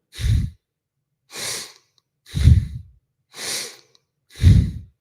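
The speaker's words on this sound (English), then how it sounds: "on the exhale, through our nose, we go down and close our hand" Five slow, audible exhales through the nose during a breathwork session, each a soft breathy rush separated by silence, close to the microphone.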